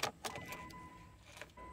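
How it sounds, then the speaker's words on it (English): A key jangles and clicks in the ignition of a 2000-2006 Nissan Sentra 1.8 to prime the fuel pump, bringing a faint electric whine that runs briefly, stops, then starts again. Quiet and close. "First, I'm gonna try to prime the fuel pump a few times, just like this."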